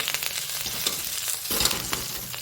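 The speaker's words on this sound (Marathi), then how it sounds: "आता हे तेल गरम झाल्यानंतर आपण हा कढीपत्ता संपूर्ण त्यावर भाजून घेणार आहोत" Curry leaves roast in a little hot oil with a continuous close crackling sizzle, broken by scattered pops and stirring scrapes, and no voices.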